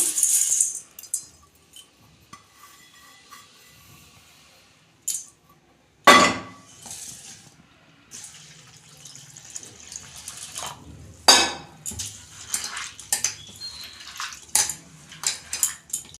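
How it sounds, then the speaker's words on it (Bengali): Flattened rice (chira) of medium thickness being rinsed by hand in a bowl, several times over, with intermittent clinks of the bowl and splashy water bursts between quieter stretches. "এইটা আমি ভালো করে ধুয়ে নেব"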